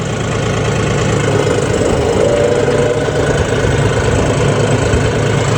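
A diesel tractor engine runs steadily during a 2WD versus 4WD test. It gives a loud, close, rough knocking rumble that holds an even pace throughout, with no speech.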